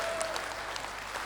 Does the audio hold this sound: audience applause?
yes